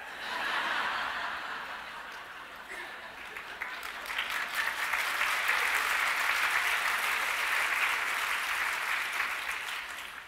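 An audience's laughter swells into a long round of applause, starting with murmured chuckling and building to dense, steady clapping that stays loud for several seconds before easing off.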